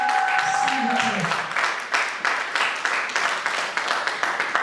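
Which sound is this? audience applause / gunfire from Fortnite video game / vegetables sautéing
audience applause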